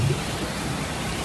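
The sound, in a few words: rain falling during outdoor rally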